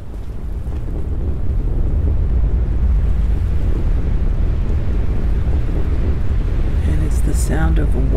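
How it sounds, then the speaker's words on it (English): Wind blows in the Myst video game as a loud, steady roaring rush that holds constant from start to finish, with a brief voice-like sound near the end. "And it's the sound of wind."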